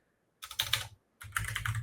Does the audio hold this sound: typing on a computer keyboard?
yes